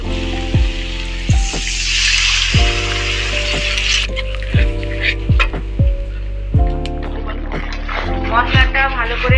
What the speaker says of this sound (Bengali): এবারে আমি টক দই ফেটানোটা দিয়ে দেবো